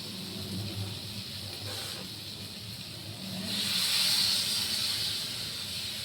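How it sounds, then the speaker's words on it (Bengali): Water is poured into a hot pan of crab curry, giving a steady hiss and sizzle that swells loudly midway and then settles, with no talking. "এবার আমি জল ঢেলে দেবো, আমার কষানোটা হয়ে গেছে।"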